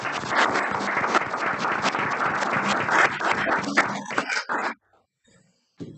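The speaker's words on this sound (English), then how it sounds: "Chief Piper, I would like to ask council for a round of applause for the effort that you and all of the department heads do." A council meeting audience breaks into dense, steady applause that carries for about four and a half seconds, then cuts off abruptly, leaving near silence with faint room sounds.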